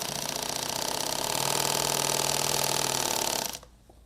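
A sewing machine runs a second line of stitching on leather, a steady rapid mechanical whir close by that cuts off abruptly near the end into quiet, no speech.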